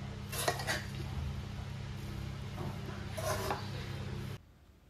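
Puffed rice mandakki oggarane being mixed in a pan, a few scraping and clinking strokes of a utensil against metal over low background hum, ending abruptly.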